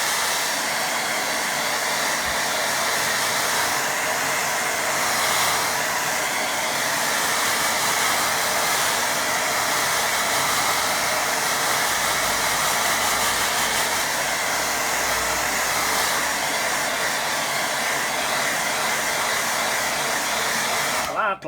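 Hair dryer drying a watercolour painting of a windmill, a loud continuous close-up blowing roar that holds steady for about twenty seconds and cuts off at the end.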